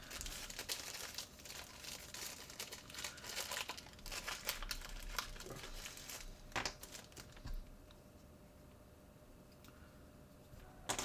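Papers crinkle and rustle as a new camera is unboxed, with irregular crisp crumpling and a few sharp clicks close to the microphone, fading to quieter handling near the end; no one speaks.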